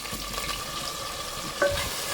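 Curry leaves, chopped shallots, slit green chillies and tomato sautéing in a pan, giving a steady, close frying hiss with a couple of stirring scrapes near the end and no voices.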